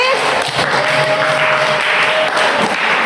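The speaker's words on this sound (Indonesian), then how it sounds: "Ayo, beri tepuk tangan untuk kelompok 3." A classroom of students claps for a group, giving loud, dense applause that runs steadily for about three seconds with no gaps.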